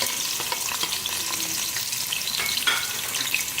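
Three onions frying in a cup of oil in a deep pot, a steady close sizzle with faint crackles and occasional stirring scrapes throughout.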